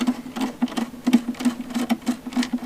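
A Phillips screwdriver backs screws out of the pickguard of a Grote GB-003 jazz guitar, giving a quick, fairly regular series of small close clicks and creaks for a few seconds.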